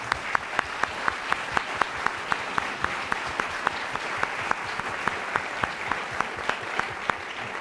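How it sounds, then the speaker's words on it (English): Audience applauding a panel after a discussion on Cuba, steady dense clapping from a large crowd, sustained evenly throughout with a few sharper individual claps standing out. "can we please have a round of applause for our panel?"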